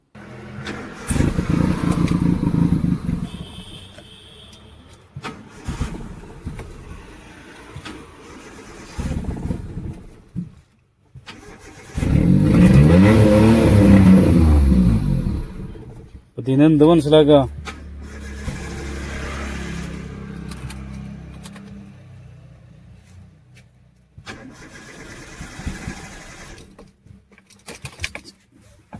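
A petrol car with no fuel left cranks repeatedly without catching, its starter whirring in several loud bursts separated by pauses. Someone speaks briefly between attempts.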